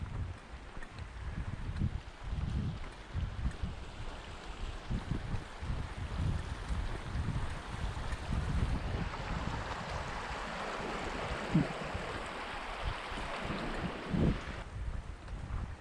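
Water runs steadily over the creek crossing at Crabtree Meadow, a broad, continuous rushing wash close by, roughened by gusts of wind noise against the microphone.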